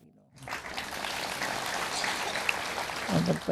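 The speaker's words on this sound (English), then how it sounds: "Just your applause doesn't make me happy." Audience applause during a spiritual discourse rises quickly from near silence into a steady wash of clapping. A voice starts speaking over it near the end.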